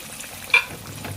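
Salmon pieces coated in corn flour fry in hot oil with a soft, steady sizzle, and one sharp spit or crackle stands out partway through. No one speaks.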